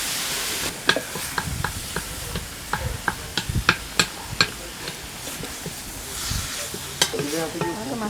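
Spice powders and browning coconut being sautéed in a pan over a wood fire, a soft sizzle broken by a quick run of sharp spatula taps and scrapes against the pan.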